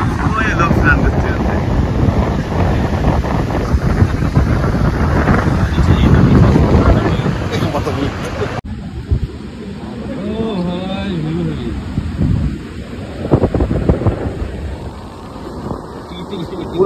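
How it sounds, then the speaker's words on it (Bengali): Wind buffets the microphone on Gopalpur sea beach while waves wash steadily in the background, with people talking nearby throughout. "পুরো গোপালপুর সি বিচটা এখানে দেখা যাচ্ছে।"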